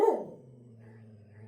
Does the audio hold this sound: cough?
no